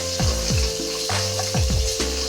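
Cut onions dropped into hot oil, a loud steady sizzle of frying close by, with a few stirring scrapes and clanks at irregular intervals.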